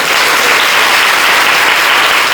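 Dense, loud audience clapping at a birth-star festival celebration fills the whole stretch, a continuous roar of many hands with no pauses.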